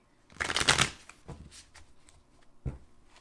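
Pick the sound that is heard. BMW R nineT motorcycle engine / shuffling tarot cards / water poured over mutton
shuffling tarot cards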